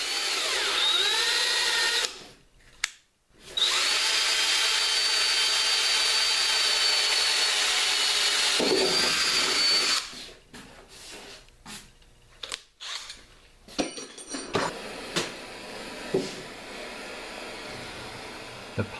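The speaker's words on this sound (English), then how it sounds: "Using a 5/8 drill bit, I'm drilling the overflow hole." A power drill with a 5/8-inch bit whines steadily boring an overflow hole in plastic, pausing briefly twice, then stops; scattered clicks and handling noises follow in the final seconds.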